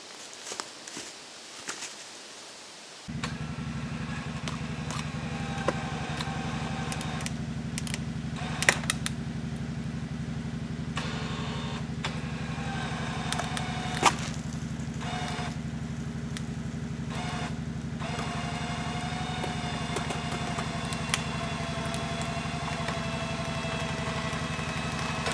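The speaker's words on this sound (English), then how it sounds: "I'm going to go to the ATV. I'm going to put some tension on this line." An ATV engine runs steadily at idle, a constant low drone starting a few seconds in, with occasional creaks and clanks as a line is tensioned to lift a homemade deer feeder barrel.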